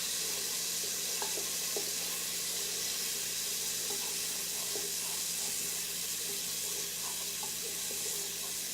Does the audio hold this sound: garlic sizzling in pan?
yes